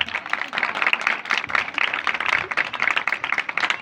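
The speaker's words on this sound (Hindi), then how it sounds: "भरपूर तालियों के साथ" A congregation at a church gathering applauds warmly, a dense steady wash of clapping that carries on unbroken for several seconds, fairly close and full.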